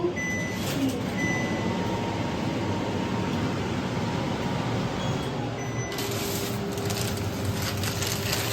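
A high-suction, auto-clean kitchen chimney hood runs at a low power setting, giving a steady, even whooshing fan drone throughout; a faint higher tone and a slight brightening come in near the end, with no voices.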